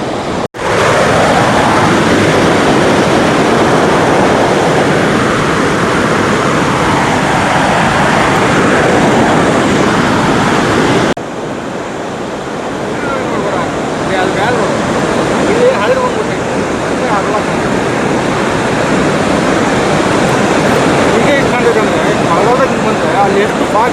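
Unchalli waterfall in Karnataka roars as a loud, continuous rush of falling water, with people talking over it throughout.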